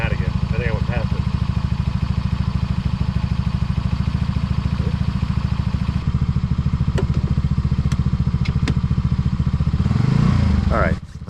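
A camper's engine runs loud and close with a steady rapid idle pulse while its carburetor is tuned by ear, the note rising briefly near the end, with a few faint clicks.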